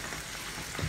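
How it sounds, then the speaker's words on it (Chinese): Octopus deep frying in hot oil, a brief steady crackling sizzle heard alone at moderate level. "油炸一个，八爪鱼"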